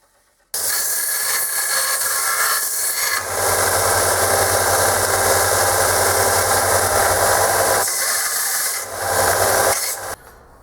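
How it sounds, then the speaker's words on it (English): Steady loud abrasive rasping as the top of a cast headstock is sanded down, running continuously with slight shifts in pitch and a motor-like drone beneath, stopping briefly near the end. "I haven't completely sanded down the top of this because I don't want to sand it down too far."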